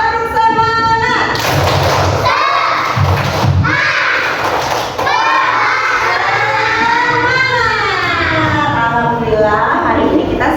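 Children in a primary school classroom chant and clap a rhythmic spirit cheer together, loud and close, with shouted voices, thumping claps in bursts and a teacher's voice around it.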